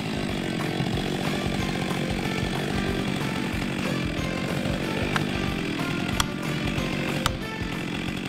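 A Stihl MS 462 chainsaw with a 72.2 cc engine cuts through wood, its loud, steady, high-revving whine running close and unbroken throughout, with a few sharp clicks near the end.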